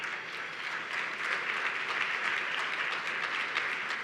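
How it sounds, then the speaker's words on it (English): An audience claps steadily for sponsors and auction donors at a Top Women 2015 event, a dense, continuous round of applause that fills the room evenly for about four seconds with no talk over it. "Let's give all of our sponsors and auction donors a round of applause"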